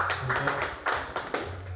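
Scattered hand claps from a small group at an education seminar, uneven and fairly close, lasting under two seconds.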